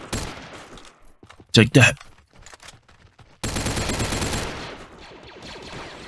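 Blaster fire crackles through a Galaxy at War battle simulator fight: a pair of loud close bursts, then a long sustained rattling barrage, with scattered shots before it and someone talking over the action.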